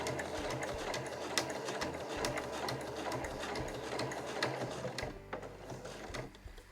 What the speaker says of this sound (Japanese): 今回周囲ぐるっと縫っていきます。